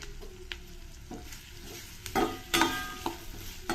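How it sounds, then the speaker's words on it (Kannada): Onion and capsicum frying in a pan, a steady sizzle broken by louder bursts of stirring and scraping, close and continuous with no talk. "ಒಂಚೂರು ಫ್ರೈ ಆಗಲಿ"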